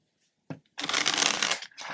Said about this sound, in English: I have to shuffle this deck this way because it like bends kind of strange.